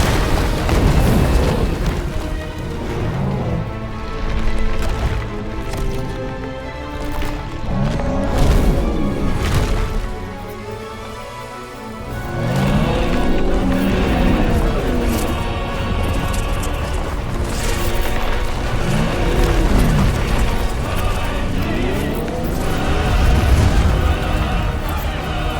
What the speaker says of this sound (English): Clive has learned the Brimstone, the ability Brimstone from Titan. Hold and release right trigger and X for a violent explosion.